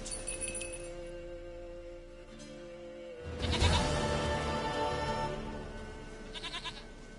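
Goat in The Witcher 3 bleats near and clear at the start and again briefly near the end, with a louder burst of game sound in the middle and steady in-game ambience throughout.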